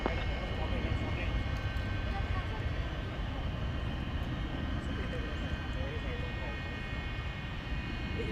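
Large jet airliner at Dallas Fort Worth International Airport at night, its engines giving a steady, continuous roar that fills the whole stretch at an even level with no breaks.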